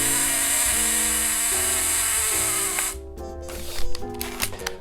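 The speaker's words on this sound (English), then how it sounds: "I'll show you the slow shutter speed on the 202, which sounds like this." A Horizon 202 panoramic camera fires at a slow shutter speed, a mechanical whirring sweep lasting a few seconds, close and moderately loud, followed by small clicks and handling noises.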